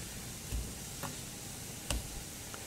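Chopped garlic frying in a pan for a seafood sea bass dish gives a soft continuous sizzle, broken by a few sharp crackling pops and ticks.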